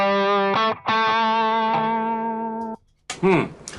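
Single notes from an electric guitar run through a Dumble-style overdrive pedal, sustained singing tones with a brief gap and a bent note at the end, clear and upfront.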